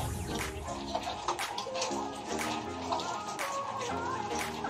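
Iced chocolate almond milk shaken espresso being mixed, with liquid sloshing and swirling in quick irregular bursts up close, while a voice talks faintly over it.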